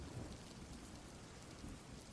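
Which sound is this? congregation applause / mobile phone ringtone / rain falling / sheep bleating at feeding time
rain falling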